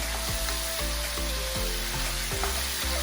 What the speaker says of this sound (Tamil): இந்த 3 தக்காளியும் சேர்த்துட்டு வதக்கி விட்டுக்கலாம்.